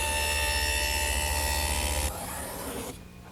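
Router cutters shape a tongue along the edge of a wood board, fed past a sacrificial fence in a single pass. A loud, whining cut runs for about two seconds, then the router winds down to a quieter hum.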